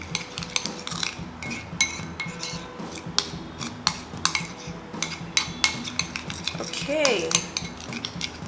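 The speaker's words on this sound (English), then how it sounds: "Add 1 more tablespoon of milk and continue mixing it together." A spoon stirs a face mask mixture with milk in a bowl, giving steady clinking and scraping against the bowl's sides in a quick repeated rhythm, close and fairly loud, with a brief spoken word at the start.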